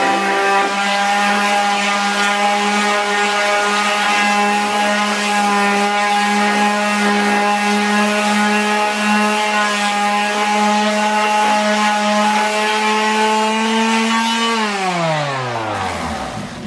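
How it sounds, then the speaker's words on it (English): Power sander running over a luan plywood panel, a steady loud electric whine held throughout, winding down in pitch at the end, no talk. "I'm going to take the Luan, I'm going to run the sander over it just a little bit, clean it up"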